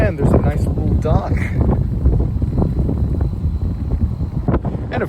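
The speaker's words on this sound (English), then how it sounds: "it's quite windy because of the lake and its waves" Strong wind off a lake in Ithaca, New York buffets the microphone in a steady, rumbling roar that lasts throughout, with lapping waves faintly beneath.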